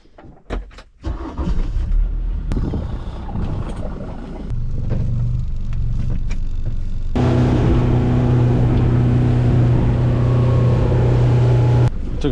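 A motorboat engine runs steadily on the water while out halibut fishing off British Columbia, a loud continuous drone with a rising hum that settles into a constant close roar after early knocks and bumps.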